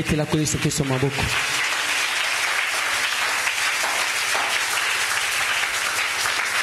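A church congregation at a French-language service breaks into loud, sustained applause after a brief sung or voiced note, the clapping filling the room evenly until the end.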